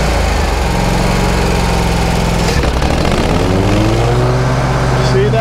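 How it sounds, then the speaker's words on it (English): A lawn mower engine runs at half throttle with its blades engaged, a loud, close buzzing drone that bogs down and labours mid-way before its pitch climbs again, with a voice talking over it. "Half throttle, the engine struggles."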